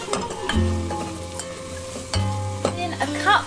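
Vegetables, curry powders and spices frying in a pan for a ten-vegetable curry. A loud, steady sizzle runs throughout, with a couple of low hums and occasional scrapes of stirring.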